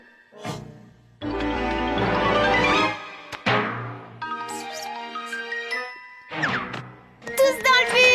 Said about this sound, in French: Il faut réparer cette sonnerie.